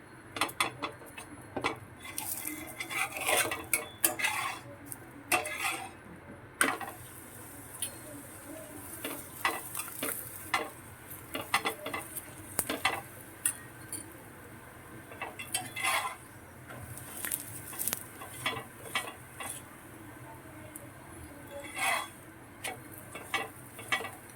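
Methi thepla is cooked in oil on a griddle amid kitchen clatter: scattered metallic clinks and taps of utensils against the pan over a soft, faint sizzle, with sharp clicks coming at irregular intervals.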